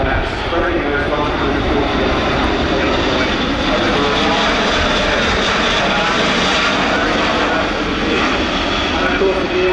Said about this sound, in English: the very impressive propellers driven by the TP400 engines